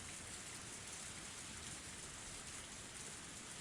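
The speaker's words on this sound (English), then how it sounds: "The rain was still pretty intense." Heavy rain in the video game Higurashi: When They Cry, a dense continuous hiss of downpour with no break, steady and fairly quiet, with no voices.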